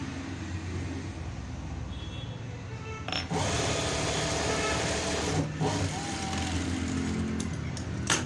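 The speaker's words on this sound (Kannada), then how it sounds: "ಟರ್ನ್ ಮಾಡಿಕೊಂಡು ಎಡ್ಜ್ ಸ್ಟಿಚ್ ಹಾಕ್ಕೊಳ್ಳಿ" A sewing machine runs steadily, edge-stitching a semi patiala pant, with a continuous whirring hum that briefly changes pitch partway through.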